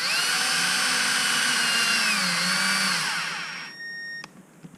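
Power drill whirring steadily as it drives screws into a plastic differential cup of a Tekno EB48 2.0 RC buggy, the motor pitch sagging under load before winding down and stopping near the end.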